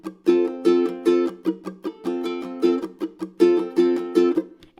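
Acoustic guitar played with a funky percussive strum on an open chord, the pinky muting strings so ringing chord hits alternate with sharp choked chucks in a steady rhythm, close and clear with no talk.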